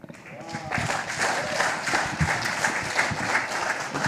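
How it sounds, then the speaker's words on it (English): Audience applause at a live-streamed ceremony, a sustained round of dense clapping rising quickly after a brief voice and continuing evenly and fairly close throughout. "Can you have another hearty round of applause, please?"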